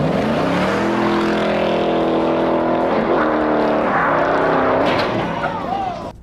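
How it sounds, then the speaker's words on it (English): A Toyota Prius drives along with a loud, steady engine drone that rises and falls in pitch, plus road and wind noise throughout, ending with a slight fade. "Driving a Prius."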